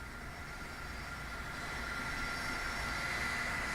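Boeing 747 Shuttle Carrier Aircraft with a space shuttle weighing 175,000 pounds mounted on top, arriving at Kennedy Space Center: a steady, continuous roar of jet engines holding constant, with no talk.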